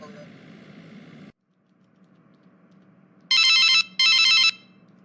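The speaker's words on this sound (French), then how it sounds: "Permettez-moi de passer un appel s'il vous plaît." Animated telephone ringtone placing a call: two loud bright electronic ring bursts after a short pause, following a stretch of dialogue and low background hum.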